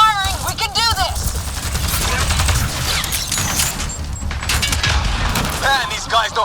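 Rapid, dense bursts of gunfire from the video game Mass Effect Andromeda crackle in sustained volleys, with voices calling out over the shooting.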